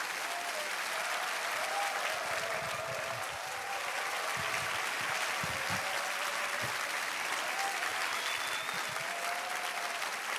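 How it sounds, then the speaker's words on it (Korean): A church congregation gives a long, steady round of welcoming applause for a visiting pastor, the dense clapping filling the hall evenly with a few faint cheers and murmurs mixed in. "우리 박정근 목사님, 우리 한번 힘찬 환영의 박수 해주십시오"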